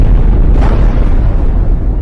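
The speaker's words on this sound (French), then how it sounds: "si vous voulez de l'explosion, voici" A loud, deep explosion boom with a sustained low-end rumble that holds for about two seconds, with no clear decay and no voices.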